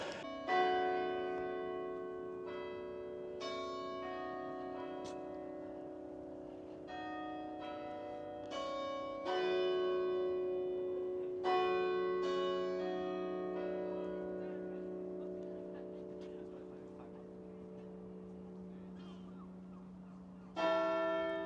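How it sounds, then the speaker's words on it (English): Church bells in Whitby ring out in a long sequence of resonant strikes, each tone lingering and overlapping as the peal continues steadily over about twenty seconds. "The bells of the church."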